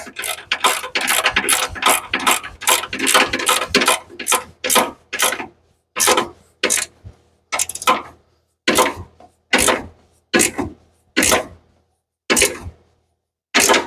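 Ratchet wrench with a deep socket turning a steering shaft bolt on a 1983 Foxbody Mustang GT with a big block, loud close clicking bursts, dense at first, then spaced single strokes with pauses.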